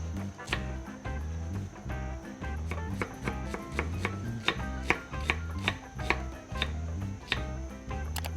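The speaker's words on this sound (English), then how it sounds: "Onion, you have to make it finely chopped." A knife finely chops onion for spring rolls on a board, a brisk, regular run of crisp taps close by, steady throughout.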